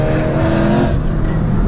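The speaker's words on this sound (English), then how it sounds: "this straight pipe paired with the back box, listen, you can't tell me that any E92 M3 sounds any better" A loud, deep straight-piped BMW E92 M3 V8 exhaust roars up close, its raw, rasping drone holding steady throughout with no talking.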